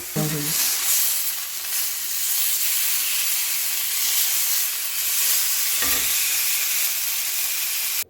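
Peri peri chicken cooks in a pan, giving off a steady, hissing sizzle with a light burst of stirring near the start and another brief clatter later.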